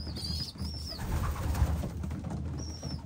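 Soft racing-pigeon cooing nearby at a loft trap, with a few higher bird chirps over a low steady background hum.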